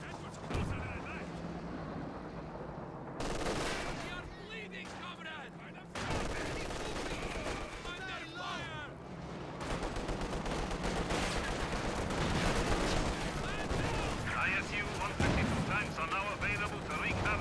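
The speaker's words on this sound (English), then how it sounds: "And now we do have a Panzer Warfare Barrage." Company of Heroes 2 artillery barrage with pack howitzers and gunfire, giving repeated booming blasts and crackling shots through the whole stretch, under steady talk from a commentator.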